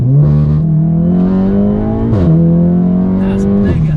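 A Stage 2+ VW Golf R engine, tuned and remapped, drones loud and steady while cruising, its pitch creeping up and dipping slightly a couple of times over the few seconds.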